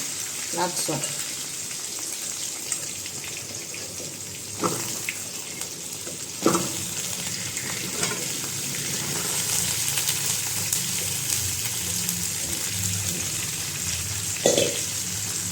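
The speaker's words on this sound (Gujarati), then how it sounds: "હવે બધું મિક્સ કરશું હવે જે ધોઈને સરગવો ને વટાણા આપણે રાખેલા છે એ આમાં" Washed drumsticks and peas stirred into a hot pan, a steady hissing sizzle with occasional knocks of the spoon against the pan over about fifteen seconds, close, no talk.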